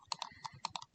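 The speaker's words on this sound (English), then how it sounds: "I'm just going to press G on my keyboard" A computer keyboard under light use during CAD assembly work: several quiet, crisp key clicks in an irregular run, close to the microphone and with no talking.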